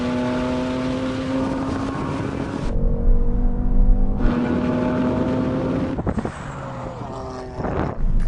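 A BMW M3 Touring F80 launches in a drag race against an AMG C63 S Estate, its engine roaring loudly and rising through the gears with sharp breaks at each upshift.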